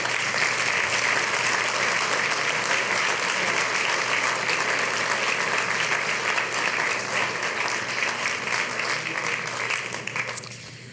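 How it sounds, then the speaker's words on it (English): A large audience at an awards ceremony applauds in a thick, continuous roar of clapping that holds steady for most of its length, then thins and tapers near the end. "Please give her a big round of applause."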